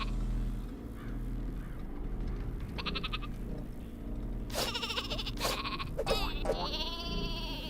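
Cartoon sheep weapon in the Worms WMD video game bleating in several loud, wavering bursts over a constant low game soundtrack.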